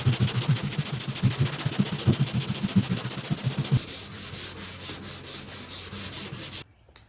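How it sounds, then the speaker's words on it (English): Hand sanding of the bodywork on a 1972 El Camino roof with 120-grit sandpaper on a block produces a steady, close, scratchy back-and-forth rasp in quick rhythmic strokes. After about four seconds it softens to a lighter rubbing hiss, and it stops abruptly near the end. "Once I got it about where I want it to be, I go with the lighter sandpaper."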